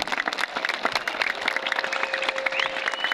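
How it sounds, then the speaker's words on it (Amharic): A group of children claps steadily and densely at a flag day celebration, a continuous patter of applause at moderate loudness with no pauses. "እስኪ ሞት አለ ጭብጨባ።"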